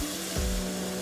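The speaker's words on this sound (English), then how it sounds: "You want to add about 1/2 cup of white wine. That's going to deglaze the pan." White wine poured into a hot pan of garlic, seafood and parsley sets off a brief, close burst of sizzling with a soft low thump as the liquid hits, over a faint steady hum.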